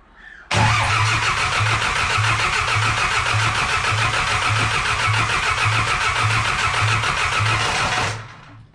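An overhauled Ursus C-360 tractor engine starts abruptly and runs steadily for about eight seconds with a loud, rhythmic low diesel knock, then cuts off. No speech is heard.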